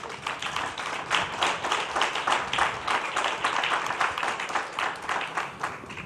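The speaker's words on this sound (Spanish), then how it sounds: "yo creo que ahora sí que se han ganado el aplauso" At an entrepreneurs' breakfast organized by La Voz de Galicia, the audience applauds in a steady, moderately loud wash of clapping, the many hands pulsing gently in uneven waves before fading.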